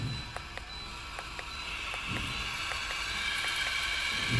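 Spray rod of an H50 smart toilet moving, giving a faint mechanical whir with a row of small regular ratcheting clicks over a steady low hum, alone with no voices.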